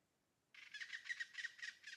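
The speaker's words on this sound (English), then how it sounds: "You get birds way more frequently than you would have with that scrubland" Birds chirp in a tropical setting in the video game Prehistoric Kingdom, a quick run of bright, repeated calls that start suddenly and keep a steady, soft rhythm in the background.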